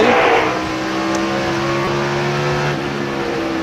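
A NASCAR race car engine from the 2002 Pontiac Excitement 400 holds a steady, loud drone with sustained harmonic tones, a touch louder at the start before settling into an even roar around the track.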